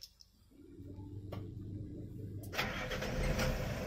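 A Nissan Diesel truck engine cranks and then catches, the starter whirring briefly before the diesel bursts into a louder, steady rumbling idle, close by and without talk.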